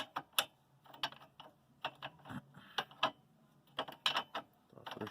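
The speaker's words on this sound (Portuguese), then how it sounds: "Tô afrouxando aqui a polca" A ratchet wrench loosens a nut on a car's suspension, giving quick bursts of crisp metallic clicks in an uneven rhythm, close and fairly quiet.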